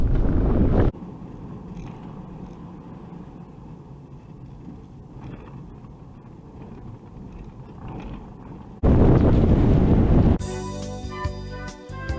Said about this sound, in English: it's like really windy out here